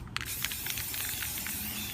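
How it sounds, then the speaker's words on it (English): Aerosol primer hissing steadily from a spray can as it lightly coats a plastic pumpkin keg, a continuous close airy spray with slight pulsing bursts, no voices. "we're just going to lightly coat it with a primer"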